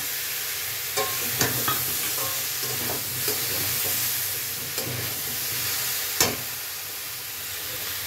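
Green chillies sizzle steadily in a hot pan, with a few sharp scrapes and clinks of a spatula stirring them at intervals, the frying close and fairly loud throughout with no voices.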